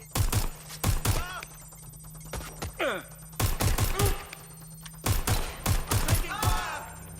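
Bursts of gunfire in the Watch Dogs: Legion video game, several sharp volleys of rapid shots separated by pauses, with a brief voice heard between them.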